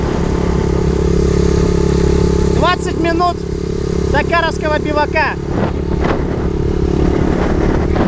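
A motorcycle engine hums steadily at close range during a rest day at a rally, a continuous low drone under two bursts of talking and exclamations from people nearby.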